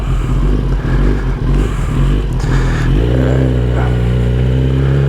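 A 2022 Kawasaki ZX-10R sport motorcycle engine revs loudly and close, rising and holding at a high steady pitch, with no one speaking.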